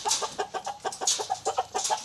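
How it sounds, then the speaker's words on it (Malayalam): Native country chickens cluck on a farm in a quick, uneven run of short calls, fairly faint and with no one talking. "ഇത് ശരിക്കും നാടൻ കോഴിയല്ലേ? ഇത് നാടൻ കോഴി."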